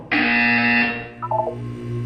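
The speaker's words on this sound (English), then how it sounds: "When you hear the buzzer, look down at the floor." A buzzer in the Portal 2 video game: a loud, steady electronic tone holds for about a second, then gives way to a few shorter, quieter stepped tones over a low background hum.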